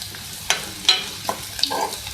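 Crushed red chillies frying in a pan, with a soft sizzle and a few brief spoon scrapes, close and quiet.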